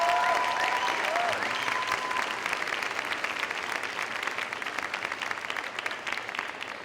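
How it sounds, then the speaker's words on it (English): A graduating class at a university convocation ceremony claps together, a broad, even roar of applause filling the hall and tapering slightly toward the end, with a brief cheer near the start. "Now I invite you, the members of the graduating class, to reciprocate by applauding family, friends, faculty, and staff"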